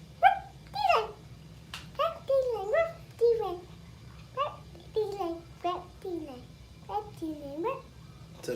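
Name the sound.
dog barking and whimpering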